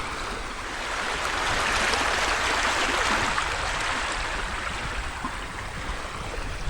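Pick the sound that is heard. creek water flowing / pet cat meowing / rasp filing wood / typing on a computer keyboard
creek water flowing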